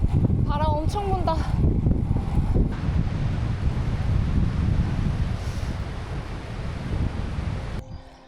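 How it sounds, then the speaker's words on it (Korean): A strong headwind buffets a cyclist riding the Milk Road around Mount Aso in Japan, loud gusty roaring and rushing wind noise pressing against the microphone nearly the whole time, with a rider speaking briefly at the start. "오늘은 또 역풍이네. 바람 엄청 분다."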